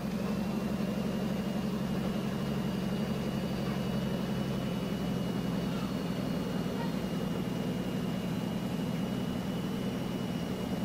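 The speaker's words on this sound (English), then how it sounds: "it kind of sounds like the truck doesn't have a muffler" A steady, raspy Renault truck engine without a muffler drones continuously at a constant pitch in the video game Euro Truck Simulator 2, loud and unmuffled, with no other sounds.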